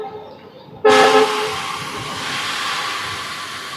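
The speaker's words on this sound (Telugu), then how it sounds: "ఆహా, early morning diesel locomotive Hawking." An early-morning diesel locomotive horn blares suddenly and loudly near Visakhapatnam station, holding one long sustained blast over steady rail noise after a quieter start.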